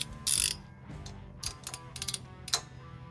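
A torque wrench clicks and ratchets in short bursts while tightening a timing chain bolt on a 1997 Jeep Grand Cherokee ZJ 5.2L V8 under rebuild, close and fairly quiet, with uneven pauses between clicks.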